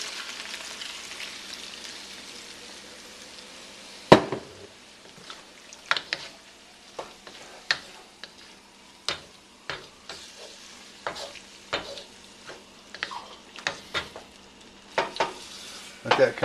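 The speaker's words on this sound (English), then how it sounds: "Now I'm going to add 1 cup of my beef broth SLURRY." A cup of beef broth slurry hits sizzling cheesesteak meat in a Teflon pan, a burst of frying followed by steady low sizzle, with scattered stirring clinks and scrapes of a utensil against the pan.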